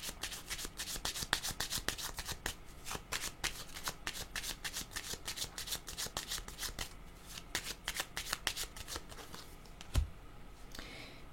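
Tarot cards are shuffled up close in a long, steady run of quick riffling and rubbing strokes at an even rhythm, without speech.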